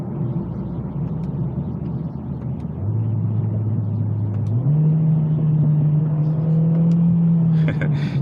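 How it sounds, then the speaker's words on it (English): A Mercedes CLA45 AMG engine drones steadily, then rises in pitch in two distinct steps as paddle-shift downshifts blip the revs, held close and loud inside the car. "You get some really nice feedback and noise when you're downshifting this car"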